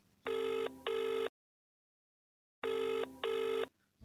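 A telephone rings for a radio call-in, sounding two clear double-ring bursts separated by a silent gap, loud and close with no talking over it.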